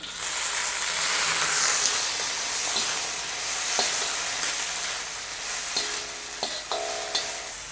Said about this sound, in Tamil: இப்போ வந்து பச்சை மிளகாய் கொஞ்சம் பொரிஞ்ச உடனே நாங்கள் கோவாவை சேர்த்துக்கொள்ளுவோம்.